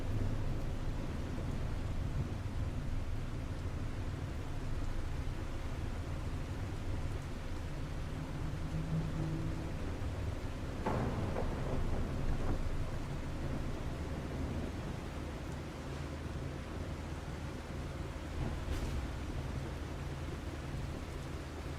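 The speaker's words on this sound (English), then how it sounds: "It got rather stormy all of a sudden." A video game thunderstorm with a steady wash of rain and rumbling low background, a sharper thunder crack about midway and another faint burst near the end, no talking.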